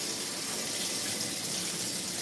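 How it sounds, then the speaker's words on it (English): Plums rinsed under running tap water in a colander, a steady, close, continuous rush of water splashing without pause. "And then you just rinse them with the fresh water and they're good to go."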